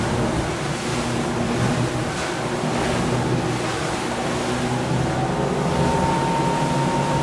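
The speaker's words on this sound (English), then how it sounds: "Let me go behind this boat and try to pick up some more speed." An Axopar 29 CCX motorboat speeds over water at about 21 knots, engine droning under constant rushing waves and wind buffeting the microphone, loud and steady throughout.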